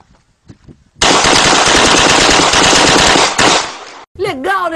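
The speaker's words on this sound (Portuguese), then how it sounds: "aí vai um vídeo desse gordão atirando com a pistola automática" Rapid automatic pistol fire rips out as one loud, sustained burst lasting a few seconds, after a few faint taps and before a short whistle-like sound at the end.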